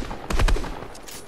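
A brief burst of gunfire in a battle royale video game, a quick cluster of loud shots lasting under a second and then fading.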